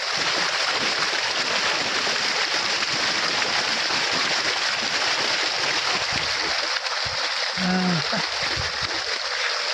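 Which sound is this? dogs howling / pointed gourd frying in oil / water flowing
water flowing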